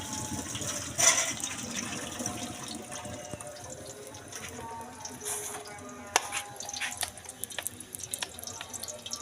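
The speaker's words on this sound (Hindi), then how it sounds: "एक गिलास जितना पानी" A glass of water pours and splashes into a pan with tomatoes, garlic and onion for several seconds, with faint clinks and kitchen clatter around it; no one speaks.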